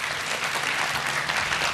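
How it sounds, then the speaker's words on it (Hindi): A studio audience applauds, a dense, even wash of clapping that holds steady throughout. "इसमें आप खुल के तालियां बजा सकते हैं"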